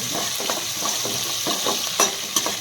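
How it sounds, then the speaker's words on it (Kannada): Ginger and green chillies frying in a pan, a steady close sizzle with scattered stirring scrapes and a few sharper clinks, no voices. "ಮೆಣಸಿನಕಾಯಿ ಹಾಕಿ ಚೆನ್ನಾಗಿ ಫ್ರೈ ಆಗಬೇಕು."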